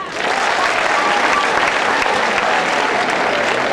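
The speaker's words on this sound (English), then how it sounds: "Can someone clap their hands?" Students clap their hands together at a free holiday program assembly at Kololo SSS, a dense, steady burst of many hands that swells in quickly and holds loud throughout.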